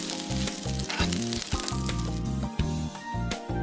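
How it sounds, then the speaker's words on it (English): Vegetable scraps sauté in a thin layer of cooking oil in an iron pan, a close steady sizzle with occasional light scrapes, heard under a continuous tonal background; no talking. "coat it with a thin layer of cooking oil, and sauté some vegetable scraps"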